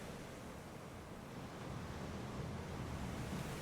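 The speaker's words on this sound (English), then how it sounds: "winds are blowing" Strong wind gusts of up to 120 km/h sweep the Dallas Road waterfront, producing a faint, continuous roar of buffeting wind across the microphone mixed with distant surf wash, with no talking.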